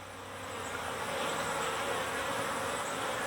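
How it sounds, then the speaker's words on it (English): A dense, continuous buzz of many bees swarming close by, steady and loud throughout with no voices. "We'll got so many bees inside of there"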